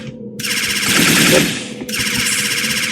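Computer game gunfire, a loud rapid burst of automatic shots with a rhythmic rattling texture, swelling and fading over a few seconds, with a brief gap before more firing.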